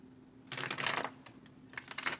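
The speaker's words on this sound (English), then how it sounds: "I'll just give them a shuffle or two" Tarot cards are riffled and shuffled in two quick bursts of soft, papery rattling, close by, with a short pause between them.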